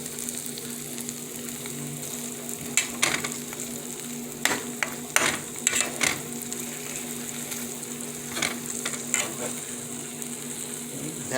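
Chopped cheese sandwich meat and cheese sizzling on a griddle, a steady close frying hiss broken by scattered scraping and clicking of a spatula.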